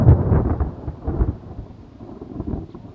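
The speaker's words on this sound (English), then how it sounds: "He brought the rain with him." Steady rain falls during a summer fly-fishing trip in northern Sweden, a dense, continuous wash with low rumbling swells like distant thunder, no voices.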